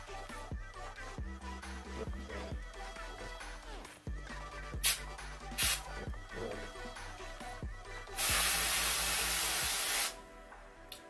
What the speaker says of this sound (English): The spray does come out pretty strong.